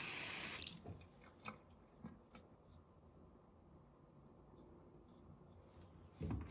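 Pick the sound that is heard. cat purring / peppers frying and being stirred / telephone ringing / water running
water running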